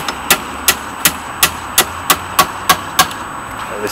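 A hammer strikes during a roadside tyre change in the snow, nine evenly spaced sharp knocks at a steady beat with no talk, loud and close over a low outdoor hum.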